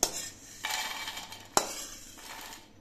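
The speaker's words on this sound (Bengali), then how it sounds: "আপনারা আওয়াজ শুনে নিশ্চয়ই বুঝতে পারছেন কতটা মুচমুচে হয়েছে।" Crispy fried mourola fish heads stirred and tossed in a pan, giving dry scraping and rattling clatters with a few sharp metallic knocks, close and fairly quiet.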